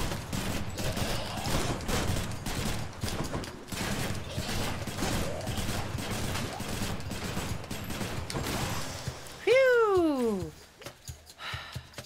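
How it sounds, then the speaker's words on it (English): Rapid gunfire from shooting enemies in the action game Hades, a dense busy barrage of shots and combat effects running throughout, ending with a sweeping descending chime. "When in doubt, just shoot them a lot."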